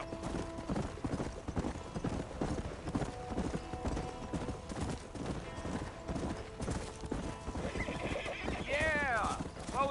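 Galloping horse in Red Dead Redemption: a fast, continuous clip-clop of hooves runs throughout, and a loud whinny near the end stands out over game background sound and intermittent speech.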